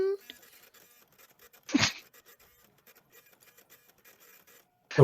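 An old printer buzzes and clicks through a short mechanical printing burst midway, with faint clicks before it and another burst at the end. A voice near the start may be imitating the sound.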